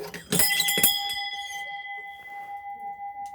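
A single bell at an outdoor spot with chairs is struck a few times in quick succession, then its bright tone rings on and slowly fades, loud and close with no talk.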